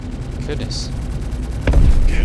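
Gunfire streams out in Star Citizen, a short burst of rapid shots that swells to a louder, denser rumble near the end, with a voice speaking over it.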